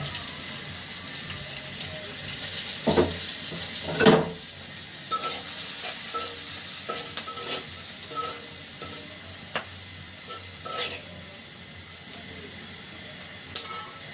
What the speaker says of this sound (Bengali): তেলের ভিতর দিয়েছি আমি এখানে সবগুলো মশলা একসাথে রেখেছি হলুদ মরিচ পেঁয়াজ কাঁচামরিচ